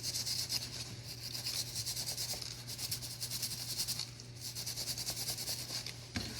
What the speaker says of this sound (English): take the plastic part of our brush, right, and just scrub off the outside